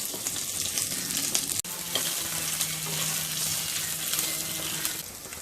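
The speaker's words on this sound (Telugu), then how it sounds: "ఉల్లిపాయ ముక్కలు, పచ్చిమిరపకాయ ముక్కలను వేసుకొని వేయించుకోవాలి." Onion and green chili pieces frying in hot oil with asafoetida in a pan, a continuous close crackling sizzle with occasional stirring scrapes and one sharp knock partway through, no voices.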